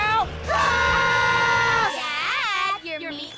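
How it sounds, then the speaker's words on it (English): Cartoon characters scream together loudly in a long sustained yell, followed by a wavering, siren-like screech, all close and dominant with no talk under it. "I guess we should probably scream now!"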